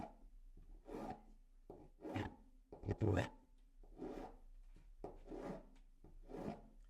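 Jewelry wire is cut away with a tool in about seven rhythmic rasping strokes, each a short, scratchy burst, fairly faint and close.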